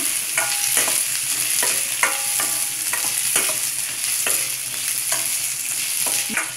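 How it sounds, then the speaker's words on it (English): Onions fry in oil until golden brown for a puffed rice upma, a loud constant sizzle with regular stirring scrapes repeating about once a second, close up. "fry it till golden brown"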